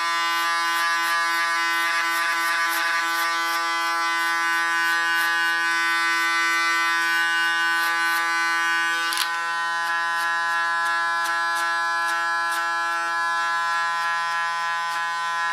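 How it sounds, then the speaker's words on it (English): Electric hair clipper buzzing steadily and loudly during a haircut, a constant high-pitched hum with faint rhythmic ticking as it works along the neckline and a brief rough burst partway through. "you better take a new blade on your clipper, because I work a lot with clippers"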